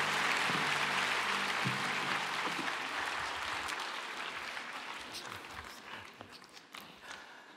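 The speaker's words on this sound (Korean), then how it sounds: "우리 큰 박수로 축복해 주시기를 바랍니다" A church congregation bursts into applause after a closing prayer, many hands clapping densely at first, with a pastor's voice over the opening seconds, then the clapping gradually fades and thins out.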